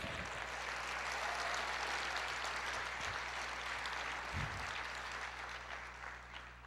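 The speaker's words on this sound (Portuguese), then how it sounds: "Aplauda o Senhor." A church congregation applauds steadily during a sermon, a broad even wash of clapping that holds for several seconds and eases slightly toward the end, with a low hum beneath.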